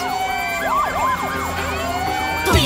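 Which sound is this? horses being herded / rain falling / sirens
sirens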